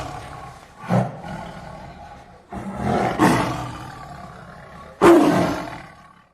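A tiger roars three times, loud, close and alone, each deep growling roar swelling and then fading in a slow, uneven rhythm.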